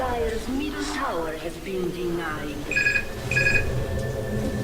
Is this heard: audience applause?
no